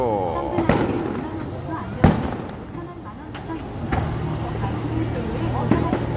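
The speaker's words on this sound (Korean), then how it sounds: "폭죽 폭죽" Fireworks pop and crackle in sharp bursts at intervals, heard outdoors at the Jagalchi Market festival amid a noisy crowd and traffic rumble.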